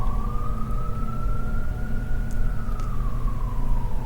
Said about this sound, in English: there's sirens outdoors.